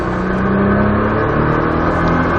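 A Nissan GT-R at full throttle, its engine roaring loud and steady with a continuous broadband drone that holds strong throughout, no voices over it.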